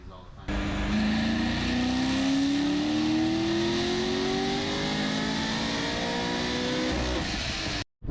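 A built naturally aspirated car engine revving hard on a dyno, one long loud pull with the tone rising steadily for about seven seconds before cutting off abruptly.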